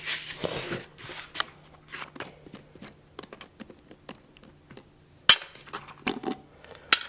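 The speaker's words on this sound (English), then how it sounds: "I'm going to take the lid off my ball mill." Lid being unscrewed and lifted off a ball mill that has been tumbling black powder for two days, giving a run of close, dry clicks, scrapes and knocks, then a few sharper clanks of metal parts near the end.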